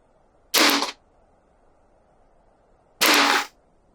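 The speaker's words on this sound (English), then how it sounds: "I'm going to do another, I don't know, 9 or 10 shots or so" Two sharp, loud .22LR shots from a Smith & Wesson folding pistol carbine ring out about two and a half seconds apart, each a crisp crack with a short decay against near silence.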